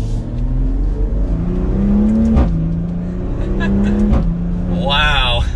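A 2020 Maserati Levante S GranSport engine revs up and holds a throaty drone with a couple of sharp exhaust pops in sport mode, close and loud, ending with a higher whine.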